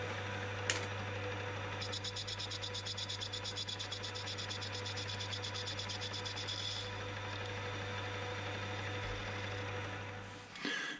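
A metal lathe bores out a thin-walled brass bush with a steady, even machining drone and a high, fine cutting chatter in the middle stretch, running close and continuous with no speech.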